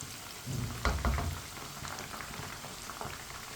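Chicken pieces for biryani fry in a pot, giving a dense, even crackling sizzle that briefly swells louder, then settles into a steady spitting hiss with no voices.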